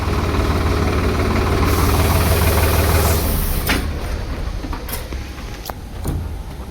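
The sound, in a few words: old tractor engine running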